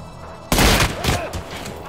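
Gunfire in a brutal video game: a sudden loud blast followed by a dense, rattling burst of shots and booms lasting over a second, with a smaller crack later, all close and without talk.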